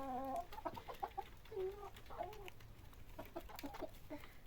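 Several soft clucks and short chirping calls from four-month-old Lohmann Brown chickens, nearby but fairly quiet, scattered over a steady low background hum.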